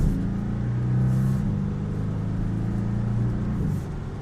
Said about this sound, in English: Really a throaty 4-cylinder for sure.